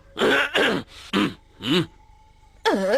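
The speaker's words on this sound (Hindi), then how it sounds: "खांसी है तो दवा खाओ।" Several rough throat-clearing coughs in quick succession, close and loud, with brief pauses between them and another hoarse burst at the end.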